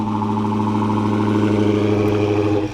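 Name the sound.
Dodge Charger SRT Hellcat Widebody engine remote start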